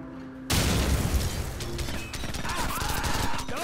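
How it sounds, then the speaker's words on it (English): A grenade goes off in the Call of Duty 4: Modern Warfare campaign after a quiet moment, a sudden loud blast followed by a rumbling, crackling tail of debris and distant gunfire. "Grenade."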